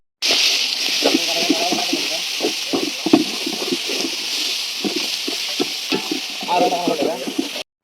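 Tomato masala sizzles and fries in oil for a spicy chicken curry, with steady crackling and repeated stirring scrapes throughout, close and fairly loud, while a voice talks over it.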